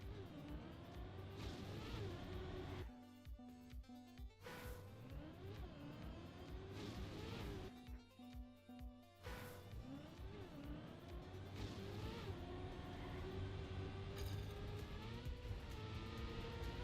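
A car engine in the racing game Trackmania revs up and down in repeated rising sweeps, dropping out briefly twice before climbing again; the engine note is buzzy and thin, with no talking.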